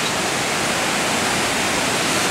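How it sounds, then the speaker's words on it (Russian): Water pours steadily at the Krka waterfalls in Croatia, a dense, even roar close by with no voices. "Везде сплошной водопад."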